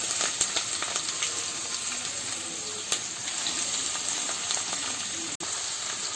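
Onions and green chillies frying in oil for a koramenu fish curry, giving a steady, bright sizzle throughout with a few small pops and clatters.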